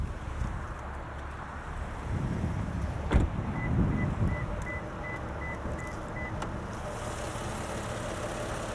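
The 3.5-liter V6 of a 2022 Lexus RC 350 F Sport AWD idles with the hood open, a low, smooth hum under wind noise, with a brief rise in rumble and a couple of sharp clicks.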